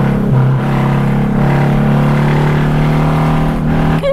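A Volkswagen Beetle engine revs hard in a race, its loud, close drone rising with a quick gear change early on and holding a strained, buzzy tone in third gear, without speech.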